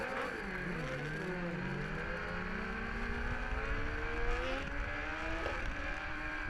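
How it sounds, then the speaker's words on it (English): A BMW 1000 RR superbike doing a burnout on a Dunlop slick at a national championship race at Autodrome St-Eustache, a loud, continuous high-revving engine wail with shifting pitch, heard from a distance. "Zook burning up the rubber on that Dunlop slick"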